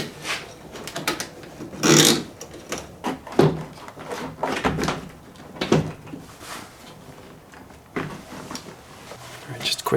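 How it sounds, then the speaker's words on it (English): A universal door lock actuator on a Jeep Grand Cherokee ZJ locks the door with brief mechanical clunks and whirring motor bursts, heard up close amid busy shop noise. "This is locking the door"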